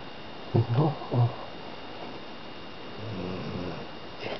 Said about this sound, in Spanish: tiene sueño y ronca